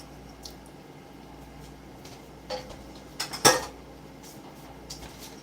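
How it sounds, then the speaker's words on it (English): Dishes, pots and cutlery being washed in a home kitchen: sparse clinks and scrapes over a quiet hum, with a sharper clatter and splash near the middle. "Now I got dishes to do."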